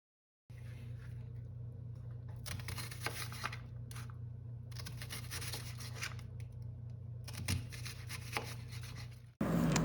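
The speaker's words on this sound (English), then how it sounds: "here I am dicing up half of a whole onion" A knife dices half an onion for a breakfast sandwich, giving steady, close, scratchy chopping and scraping strokes in quick bursts with brief pauses and no talking.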